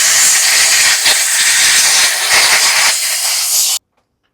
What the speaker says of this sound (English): So let's dry this with compressed air.